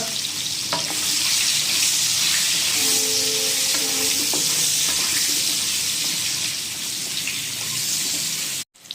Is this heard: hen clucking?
no